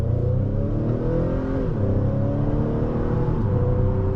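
A 2023 Acura TLX A-Spec's four-cylinder engine revs up under acceleration, its pitch climbing and dropping with two clear gear shifts from the 10-speed automatic, heard steadily from inside the cabin.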